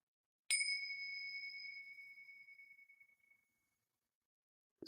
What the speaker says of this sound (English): So I'm going to try and ring my bells here.